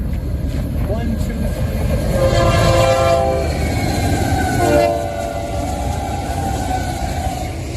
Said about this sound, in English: Another container train.